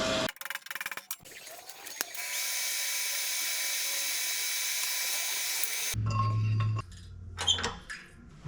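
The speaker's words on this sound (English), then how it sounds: "just drilling a 30mm hole through this piece of 50x10 flat bar for the bottom of that stem" A power drill bores a 30mm hole through 50x10 steel flat bar, a steady high grinding whine held for several seconds at close range, with clinks and metallic handling noises before and after.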